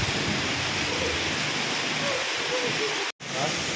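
Heavy rain pours steadily in a broad, loud hiss during a rainy motorcycle ride in the Bicol region, unbroken except for one brief cut near the end.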